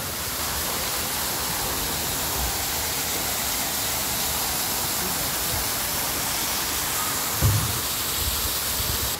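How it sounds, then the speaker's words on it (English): A waterfall inside the Entopia butterfly farm in Penang gives a steady, broadband rush of falling water that stays even throughout. A few soft bumps rise briefly above it near the end. "this waterfall is even more better"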